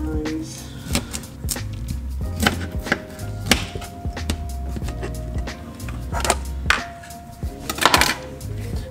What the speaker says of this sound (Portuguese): eu tô cortando em cima do fogão